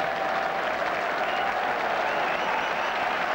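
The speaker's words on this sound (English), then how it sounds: "Applause of relief more than appreciation," A crowd at an England versus Australia Test match at Trent Bridge applauds, a dense, steady clapping that fills the whole stretch at even loudness.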